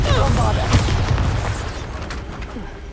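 A Confringo spell explosion in the video game Hogwarts Legacy, a booming blast with crackling debris, heard under a shouted voice.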